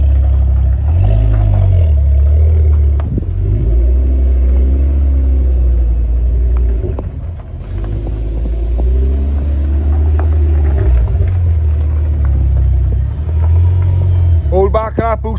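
A tuned Ford Focus ST225 with a Forge actuator, Eibach springs and uprated torque mount rumbles and revs loudly, its engine note rising and falling under boost throughout, with a sharp rev burst near the end and people talking over it.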